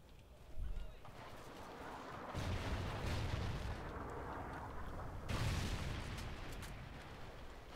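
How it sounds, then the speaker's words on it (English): A rocket strike explodes in a PC shooter game, a broad low rumbling blast swelling in twice, near and loud, over continuous battle noise, with voices talking through it. "Friendly Trinity rocket inbound."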